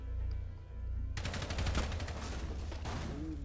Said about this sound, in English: What the fuck is he shooting at?